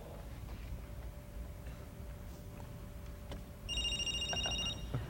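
A phone placed on a call through Bluetooth rings faintly, with brief chirping ring tones rising late in the clip over a hum and room noise.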